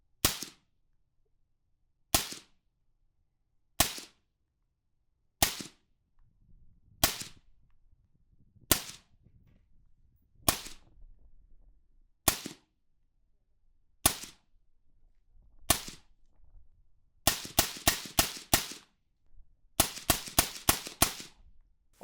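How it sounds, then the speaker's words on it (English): Ten suppressed 5.56 shots from a Victor VK1 pistol with a 10.5-inch barrel and an Exigent Defense suppressor: five sharp reports spaced about 1.5 seconds apart, then five fired in quick succession, followed by another fast string. The shots are loud and close, with quiet gaps between them. "We're just gonna do 5 slow and 5 quick on the Victor VK1 pistol."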